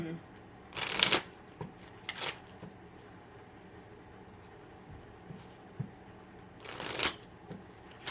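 Tarot cards being shuffled for a clarifier reading, with two loud riffling bursts near the start and another near the end, separated by quieter handling.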